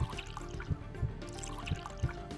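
Liquid is poured while mixing a drink in the Escape Academy video game. Faint, evenly spaced drips and splashes repeat quietly over a low, steady background.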